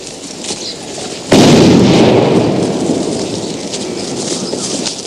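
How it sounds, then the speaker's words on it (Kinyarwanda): A heavy bomb explosion in a film about the 1994 genocide in Rwanda bursts suddenly with a loud deep boom, then rumbles and slowly decays into a lingering roar, following a quieter stretch of distant noise. "Ibisasu byo bikomeje guturika."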